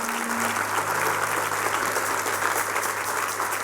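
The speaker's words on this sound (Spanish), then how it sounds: "Ese aplauso grande al Señor" Steady congregational applause fills a church during a sermon, dense and continuous throughout with a low hum underneath.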